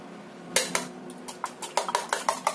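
A fork or whisk beats an egg with powdered broth in a bowl, giving quick, rhythmic metallic clinks against the side. The strokes come close up and speed up toward the end.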